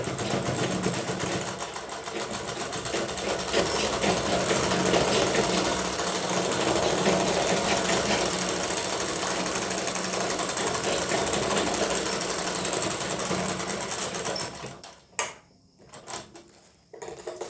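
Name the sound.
sewing machine stitching kurti side seam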